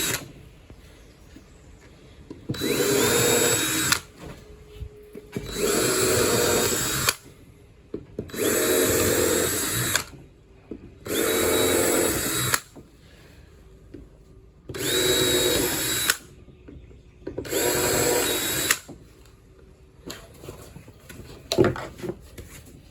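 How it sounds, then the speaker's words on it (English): A power drill bores into plywood in six separate bursts of a few seconds each, close and loud, with brief quiet pauses between holes. "we know where to drill the holes"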